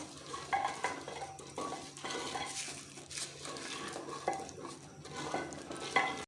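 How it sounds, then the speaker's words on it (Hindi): A spoon scrapes and stirs lentils with spices in a pot for daal, steady rhythmic clatter against metal with a faint sizzle underneath, no talking. "अब हम इसको अच्छी तरह से मिक्स कर लेंगे, दाल को मसाले के साथ।"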